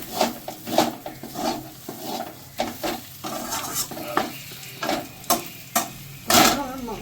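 Bitter gourd and potato fry in fish oil while a spatula scrapes and knocks against the pan in repeated strokes, a soft sizzle running beneath the irregular stirring clatter.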